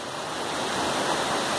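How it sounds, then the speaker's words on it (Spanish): The Cañaveralejo river near Siloé in Cali, Colombia, flowing as a loud, steady broadband rush of water with no break and no voices. "Estamos ubicados en el río Cañaveralejo"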